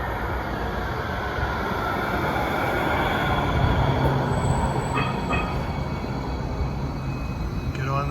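Hudson Bergen Light Rail cars roll steadily near 22nd Street, a continuous rumbling ride with thin metallic wheel squeals rising briefly midway and again toward the end.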